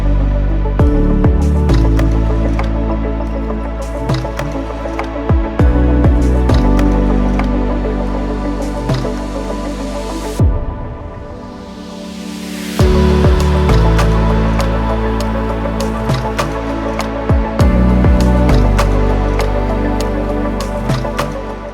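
An evening swim in the resort pool at Mövenpick Resort Khao Yai, heard as close, muffled sloshing and bubbling water with soft squishy splashes and drips continuing throughout, no talking.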